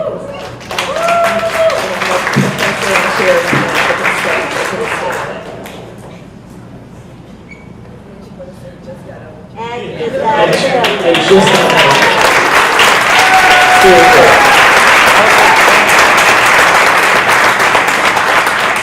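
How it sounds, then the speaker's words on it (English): Applause from the audience at a public forum on the Los Angeles Olympic bid, loud dense clapping that dips into a quieter lull midway and then swells again, strong and sustained to the end. "A well-deserved round of applause for Dr. Abdullah"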